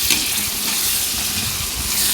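Curry leaves frying in hot oil in a pan for an Andhra-style raw egg curry: loud, bright, continuous crackling sizzle that holds steady from start to finish with no talking.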